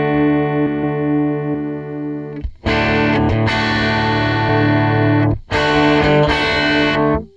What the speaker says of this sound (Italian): se invece usiamo il blocco enhancer sentiremo il suono strano.